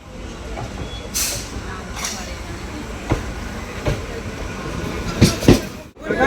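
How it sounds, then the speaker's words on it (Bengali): A train rumbles and clatters nearby as it pulls into a station, with rhythmic wheel clacks and a few sharp bursts of noise over a steady roar. "আমাদের ট্রেন ঢুকে গেছে"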